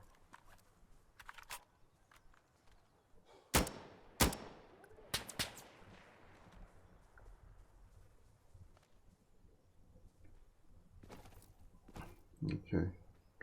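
Gunfire in Insurgency: Sandstorm on a Macedonia mod map, a few loud sharp shots and cracks with decaying echo, scattered among quieter game noises while a player talks at times.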